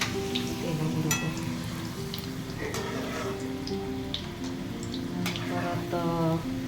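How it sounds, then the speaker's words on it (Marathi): Diwali faral snacks frying in oil over a low gas flame, giving a steady, close crackling sizzle with scattered pops and faint background voices. "बारीक गॅस ठेवून छान खुसखुशीत भाजून घ्यायचे, फ्राय करून घ्यायचे"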